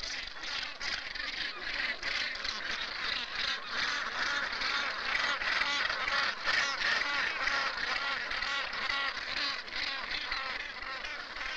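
Dense, continuous din of a gannet colony, many seabirds calling at once in overlapping harsh, honking cries that hold steady and loud throughout without pause.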